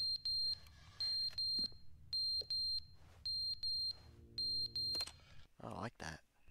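Short shrill alarm beeps from a video game repeat in a steady, evenly spaced pattern, clear and fairly close, before a person starts talking near the end.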